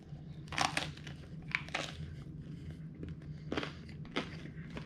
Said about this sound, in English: That's as crunchy as a baguette should be.